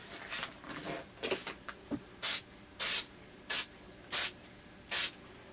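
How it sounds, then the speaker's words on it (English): A spray paint can lightly coats a patent leather Jordan XI sneaker outdoors, with five short, even bursts of hissing spray after some softer handling noises. "you can do it outside and spray your shoe"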